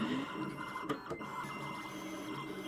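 A Siser Juliet cutting machine runs steadily, a continuous mechanical whir and hum with a few brief clicks near the start, heard alone at a close, even level.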